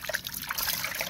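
Brine drained from homemade pickled mustard greens, a short close trickle and splash of liquid pouring out steadily with no voices.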